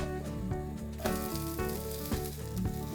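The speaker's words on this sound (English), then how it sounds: "And then cook this on low to medium heat for 2 to 3 minutes." Gram flour chilla, a thin besan pancake, sizzles steadily in a pan over low to medium heat, with a continuous close frying hiss under tonal background music.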